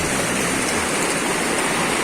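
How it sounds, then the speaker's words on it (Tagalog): Big waves on a river in General Nakar, Quezon, make a loud, continuous rushing roar of churning water, close and unbroken, with no voices. "Ito medyo malaking alon."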